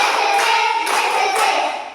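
A class of pupils claps hands in a counted ice-breaking exercise, a few distinct group claps spaced about half a second apart, close and bright, ringing briefly before fading out.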